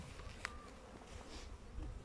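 Honey bees around an open beehive frame, a soft continuous buzzing hum from many insects close by, faint overall with no voices.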